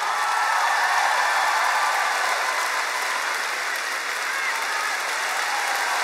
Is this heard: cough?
no